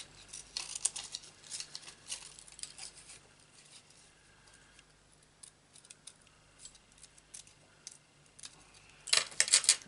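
Scissors snip through a piece of post-it note in small, irregular close cuts, quiet crisp clicks scattered throughout, with a louder burst of snipping at the end.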